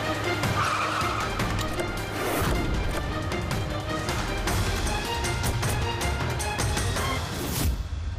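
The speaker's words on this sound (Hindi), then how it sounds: "व्हाइट गाड़ी।" A white car drives hard with tires skidding and squealing, over a loud continuous engine roar and busy dramatic noise, without speech.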